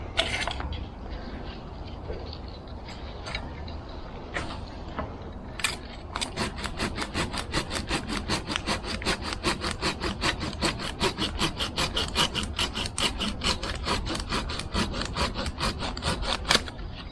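Rhythmic rasping strokes of a hand pruning saw cutting through a conifer branch during corrective pruning, close and fairly loud, starting with a few scattered scrapes and settling into a fast, even back-and-forth for the rest of the clip.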